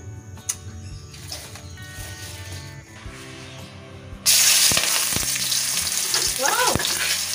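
Food frying in hot oil in a home kitchen; quiet clatter and low sizzling build until a sudden loud burst of crackling sizzle erupts midway and continues strongly, with brief faint chirps over it.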